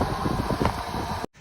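Strong wind buffets a microphone outdoors at a speed run for a radio-controlled truck, making a loud, rough, continuous roar that cuts off abruptly near the end. No one speaks.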